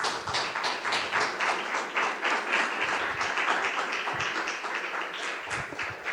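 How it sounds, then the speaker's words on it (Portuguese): Congregation applauding the Lord Jesus in church, a steady, full wash of many hands clapping for several seconds with little else over it. "Aplauda o Senhor Jesus."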